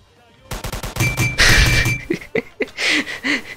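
Thompson submachine gun in a Roblox game, a rapid burst of sharp rattling shots followed by a few spaced single cracks, loud and close, with game tones and a brief voice mixed in.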